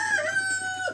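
An egg-laying hen on a small farm gives a brief, drawn-out cluck, close and clear with no talking over it.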